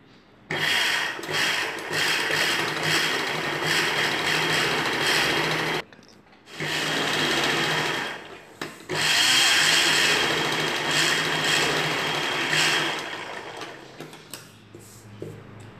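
A sewing machine stitches blouse pieces together, running in long, steady, buzzing bursts close up, with short pauses between runs and quieter handling sounds as it winds down.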